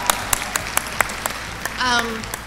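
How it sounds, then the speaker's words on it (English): Union convention delegates applaud as a first-time speaker steps up to the microphone, a short burst of crowd clapping that follows a few scattered loud claps, with a voice briefly over it. "whenever a new delegate comes to the microphone, they get a big round of applause"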